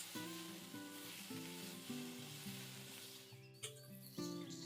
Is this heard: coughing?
no